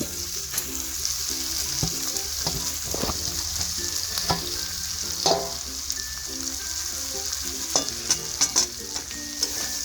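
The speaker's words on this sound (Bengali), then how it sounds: "চিংড়ির সাথে এই আলুটাকে খুব ভালোভাবে এভাবে খুন্তি দিয়ে চেপে চেপে মিশিয়ে নেব।" Grated potato and minced prawn pressed and mixed with a spatula in a hot pan: steady close sizzle broken by many sharp scraping taps of the metal spatula against the pan, no voices.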